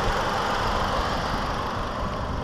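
A 2012 Hyundai Genesis Coupe with a 2-liter turbo engine idles in a steady, close, even rumble with a mild mechanical hum, and no talking over it.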